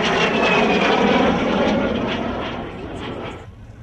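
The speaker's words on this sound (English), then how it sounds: "So we saw the Prentice landing there" A Percival Prentice propeller aircraft lands at an air show, its engine droning loud and steady at a distance before it fades and drops away toward the end.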